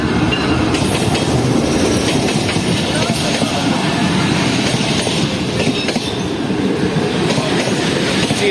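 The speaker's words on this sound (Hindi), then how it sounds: "पूरे 7:23 पर आ रही है 13 अप अवाम एक्सप्रेस" The 13 Up Awam Express, led by locomotive 9015, rumbles past near Karachi in a loud, steady roar of wheels and carriages with faint clickety-clack throughout.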